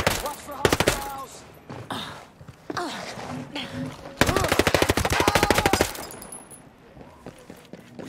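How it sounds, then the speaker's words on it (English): Bursts of automatic gunfire and single shots in a Ghost Recon Breakpoint firefight, loud and close, with a long rapid volley midway, over game voices and effects. "We got intruders inside! Gunshots!"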